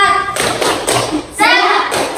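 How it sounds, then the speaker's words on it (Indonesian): Students in a Quran reading class do a short rhythmic spirit clap (tepuk semangat), loud clustered claps and thumps mixed with children's voices calling out together. "Coba tepuk semangat."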